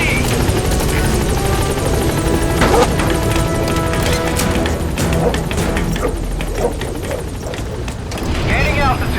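Pequod, the support helicopter in Metal Gear Solid 5: The Phantom Pain, arrives at a landing zone with a loud, steady rotor roar and engine drone throughout, mixed with game effects and occasional impacts.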